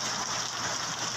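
Heavy rain falling during a storm near Mount Bulusan, a dense, even hiss of downpour, close and constant with no voices.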